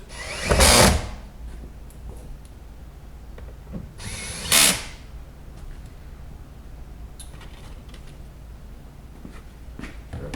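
A power drill drives two screws back into a panel of a 2018 Toyota Tundra during an audio install, with two short loud whirring bursts separated by quieter handling noise.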